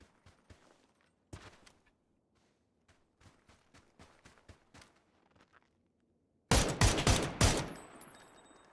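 Gunfire in PUBG: scattered distant single shots and short bursts early on, then a loud, close rapid volley of automatic fire near the end, no talk.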